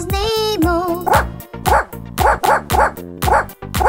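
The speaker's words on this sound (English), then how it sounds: "There was a farmer, had a dog, and Bingo was his name" Dog barking in a children's nursery rhyme about a farmer's dog, a series of short, bright, evenly spaced barks and yips after a sustained sung note, loud and close.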